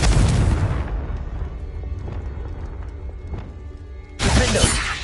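In Hogwarts Legacy, the Confringo fire spell goes off as a loud, crackling blast that fades into rumbling game sounds, followed by a second fiery burst near the end.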